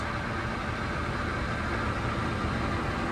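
A Hyundai engine idles in a piece of heavy equipment, a constant, even, moderately loud drone with no pauses and no talk.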